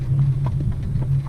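A horse's hooves clip-clop in a steady rhythm as it pulls an Amish buggy through Lancaster County, Pennsylvania, with a low rolling hum beneath.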